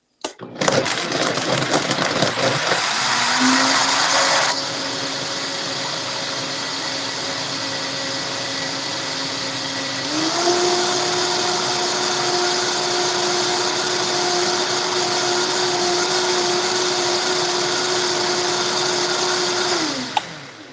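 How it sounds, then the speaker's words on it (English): A blender motor whirs up loudly blending a chocolate peanut butter smoothie, runs steadily, steps up to a higher speed midway, then winds down after about twenty seconds. "I'm going to blend this up, and it's almost time for breakfast."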